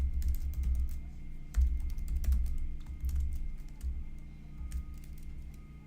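Fingers type on a computer keyboard in quick, uneven bursts of close key clicks over a low, steady background hum.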